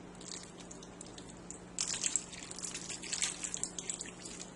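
Whisked dressing poured all over asparagus in a 9 by 13 pan, a close, steady liquid splatter and trickle that starts partway in and continues to the end.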